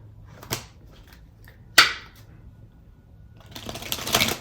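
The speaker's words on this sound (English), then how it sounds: "One more shuffle." A deck of tarot cards is shuffled close by, with two quick riffling snaps followed by a longer rustling shuffle near the end.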